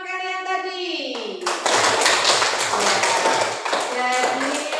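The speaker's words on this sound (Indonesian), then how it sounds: "tepuk tangan buat teman-teman kalian tadi" A voice rises and fades, then a group of young children breaks into sustained rapid hand clapping, with a few voices calling out over it.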